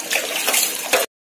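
Water splashing and pouring while singi fish are cleaned, a close, loud gush for about a second that then cuts off abruptly into silence.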